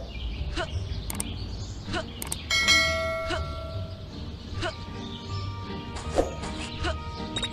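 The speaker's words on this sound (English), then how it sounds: "There goes that stupid bell again." Bell ringing in Scary Teacher 3D, a bright sustained metallic ring with lingering tones, amid scattered game thuds and clatter and a few short sounds of talk.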